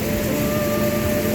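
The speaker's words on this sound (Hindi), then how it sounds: "बारिश आ रहा है।" Steady, dense rain falling outdoors, a constant hiss with a faint tonal hum underneath, loud and unbroken for just over a second with no voices.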